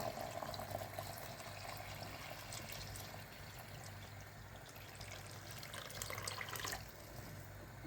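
Water pours steadily into a cooking pot of vegetable soup for chorba beida, a soft continuous splashing and rushing that swells slightly near the end.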